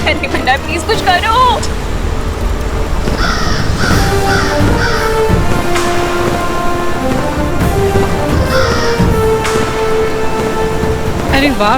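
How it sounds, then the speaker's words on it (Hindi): A legendary three-eyed crow cawing in a fantasy children's series, with a few harsh, close caws in short groups over a busy background of other sound effects. "तुम उस त्रिनेत्री काक को सचमुच ढूंढ लाए"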